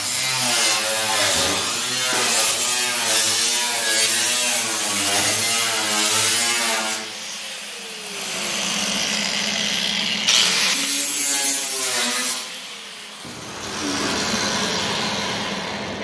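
A Cut & Butt power tool cuts along car body panel seams in long, loud, close bursts of grinding buzz, pausing briefly between passes.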